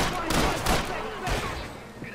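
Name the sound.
gunshots in Max Payne 3 video game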